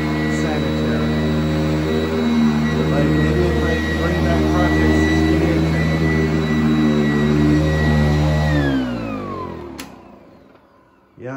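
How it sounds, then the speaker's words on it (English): A Sanitaire S675 upright vacuum cleaner runs loudly with a steady droning whine that holds for several seconds, then winds down as the motor is switched off, ending in near silence. "I kind of do have to talk loud with this because this vacuum's loud."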